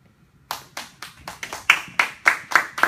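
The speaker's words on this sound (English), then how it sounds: "Please give a round of applause to the author of the story, The Glass Castle, Jeannette Walls." An audience applauds after the author of The Glass Castle is introduced, starting abruptly and building into a steady patter of many hands clapping, close and moderately loud, with no talk.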